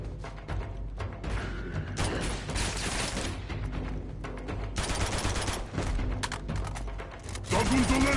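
Gunfire in the video game Uncharted 2 during a firefight: rapid bursts of shots and automatic fire crackle repeatedly, loud and close, with thuds and game noise between volleys while someone talks.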